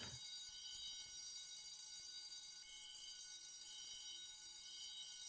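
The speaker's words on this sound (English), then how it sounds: "We have arrived at source of alarm." A fire alarm in a building rings steadily at moderate level for the whole stretch, a continuous high electronic tone with no voices over it.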